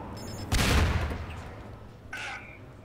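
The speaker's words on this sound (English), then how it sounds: "There are explosions coming from in there now." A heavy explosive burst with a rumbling tail, followed a moment later by a shorter, thinner blast, game gunfire and explosions in Half-Life 2.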